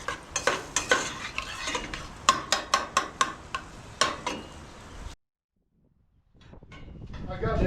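Chunks of chuck meat browning in a pot for alligator chili, with repeated close scraping and stirring strokes over a soft sizzle, then a pause before the frying resumes.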